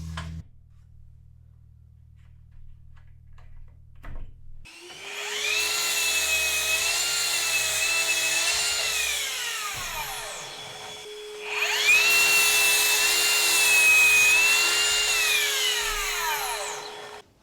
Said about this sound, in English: I'm going to get a stop set up on this miter saw and get them all cut to the same length.